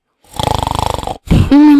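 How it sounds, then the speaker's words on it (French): Loud snoring and moaning sound effect from a vampire-themed board game, with a rapid rattling snore, a brief pause, then a groaning moan rising into a sustained tone. "La veuve de la goule, qui ne sait pas ce qui se passe, ronfle bruyamment et gémit dans son sommeil."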